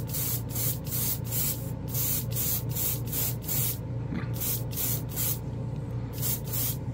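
An airbrush sprays Vallejo Game Air paint in short regular hissing bursts, about a dozen evenly spaced puffs over a steady compressor drone, close and clear with no talking.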